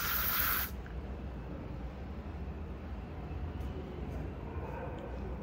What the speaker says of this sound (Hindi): This is how you can spray it.